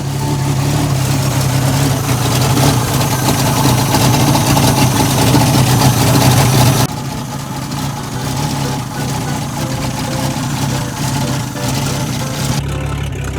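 A 1976 Toyota Land Cruiser FJ55 engine, running rough after sitting for weeks, idles loudly and close with a deep steady rumble that drops to a lower, slightly quieter idle halfway through.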